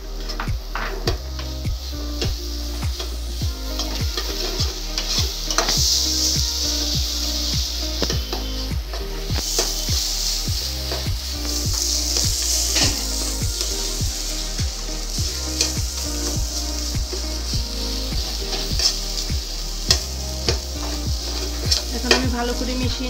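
A jackfruit seed barfi mixture with sugar is stirred in a pan over low heat, giving a continuous soft sizzle with repeated scraping strokes of a spoon against the pan.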